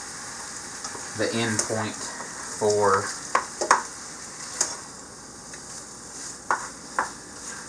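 Chicken pieces with garlic sizzle steadily in a hot pan as they are stirred and turned for a salsa chicken or General Tso's chicken meal prep, with sharp scraping clicks and a short burst of nearby talk over the frying.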